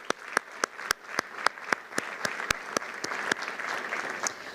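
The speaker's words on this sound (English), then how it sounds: "Let's give them a quick round of applause." A round of applause from an audience at a Homeland Security address, with sharp, loud individual claps punctuating a steady bed of clapping from many hands that keeps going at an even level.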